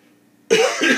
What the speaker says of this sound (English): Tried to suppress that cough,